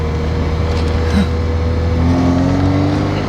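A car with newly fitted, lowered suspension pulls away and accelerates on a road test drive, its engine note rising steadily and loud up close, with no talking.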